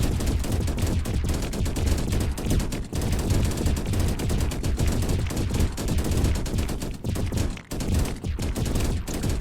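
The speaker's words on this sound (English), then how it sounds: "these railguns, they've got target piercing, remember. Slow firing, but can punch through multiple opponents in a strike" Railguns blast at an alien swarm in a sci-fi video game, a dense, continuous roar of overlapping heavy gunfire that stays loud and close throughout with only brief dips.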